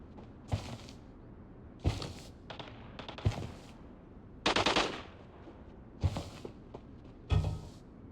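Gunfire echoing through a tunnel in the video game Arena Breakout: about half a dozen sharp, reverberant bursts, some single shots and one longer volley, spaced a second or so apart over a low ambient rumble, moderately distant.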